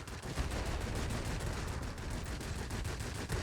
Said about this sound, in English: let's not miss these rocket shots